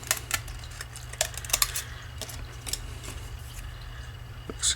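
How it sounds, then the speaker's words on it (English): Scissors snip a thin shim piece for a vintage Japanese Squier Telecaster neck, a series of sharp, close clicks and cuts in an irregular rhythm over a low background hum. "So I'll just cut a piece."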